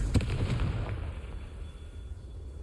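A Confringo spell blast in the video game Hogwarts Legacy goes off as one sharp explosive burst near the start, then a rumbling tail fades over the next couple of seconds.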